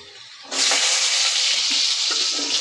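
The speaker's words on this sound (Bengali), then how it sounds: "সবার প্রথমে আলুগুলো আমি দিয়ে দিচ্ছি কড়াইতে।" Diced potatoes hit hot oil in a wok with a sudden loud, steady sizzle that keeps hissing continuously after a quiet start, close and alone.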